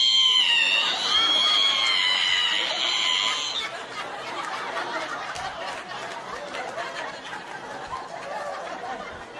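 A high, wavering squeal of a voice mimicking a creaky ironing board opening, loud for a few seconds, then fading into noisy crowd murmur and laughter.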